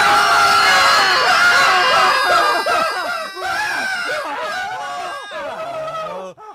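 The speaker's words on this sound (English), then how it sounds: "A scream at the right time may save your life." Loud, sustained screaming from several people in a horror-movie scene, shrill overlapping cries that waver and fade toward the end.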